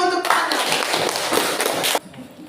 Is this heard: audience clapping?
yes